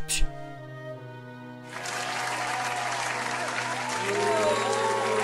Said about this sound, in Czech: Ten potlesk tam pridám